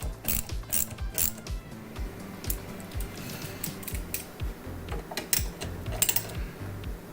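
A hand ratchet clicks in quick bursts while tightening a bolt on a 1992 C4 Corvette headlight assembly. The bursts are close, crisp and repeated with short pauses between strokes.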